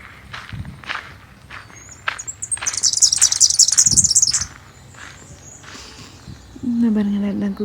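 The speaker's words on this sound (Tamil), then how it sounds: "இந்த பாருங்க எல்லாம் குட்டி டைனி பேர்டு தான்." Tiny birds on a beach in Melbourne, Australia, give a quick cluster of high, bright chirps partway through, heard alongside footsteps and people talking nearby.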